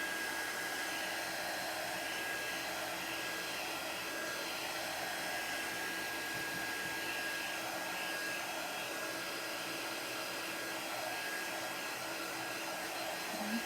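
A heat tool blows hot air to dry chalk paste, a constant close whooshing whir that runs unbroken from start to finish with no voices.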